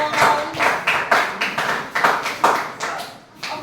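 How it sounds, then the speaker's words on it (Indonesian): A classroom of students clapping for a presenting student group, a fairly small gathering whose claps fall in a loose, pulsing rhythm of distinct bursts, close and moderately loud. "Tepuk tangan untuk kelompok"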